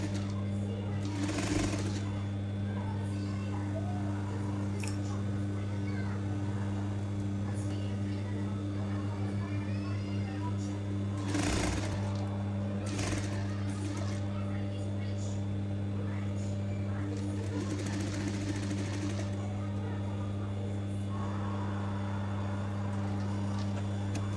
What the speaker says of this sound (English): we're sewing from the outside of the fabric, half a millimeter